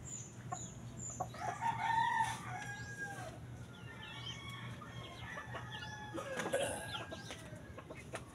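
Rooster crowing close by with clucking chickens around it, several crow phrases rising and falling over a steady low hum.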